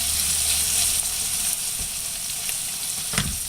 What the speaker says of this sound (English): Now we're going to toss the celery in first. Give it a good stir.